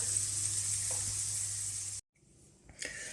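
Potatoes sizzle steadily in hot oil in a pan for a tortilla, a loud continuous frying hiss that cuts off abruptly partway, followed by quieter clatter and faint movement.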